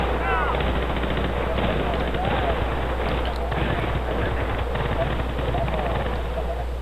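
Rapid automatic gunfire and shots from Battlefield Bad Company 2, the Cold War mission, crackling loud and continuous through the whole stretch with dense battle noise and a steady low rumble.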